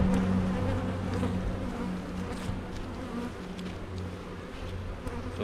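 Honeybees from a queenless colony drone in a steady, close, continuous buzz that swells and thins slightly as individual insects pass near, with no voices over it.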